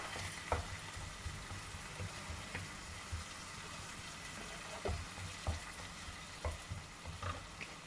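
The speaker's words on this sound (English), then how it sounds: "Give this a nice stir." A pot of fish broth with fish sauce added is stirred, giving faint scattered scrapes and clinks over a low steady bubbling simmer, with no talking.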